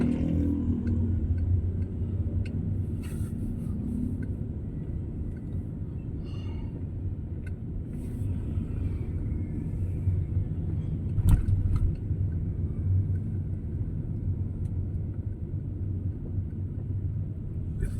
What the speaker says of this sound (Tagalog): So grabe ang traffic mga ka-driver.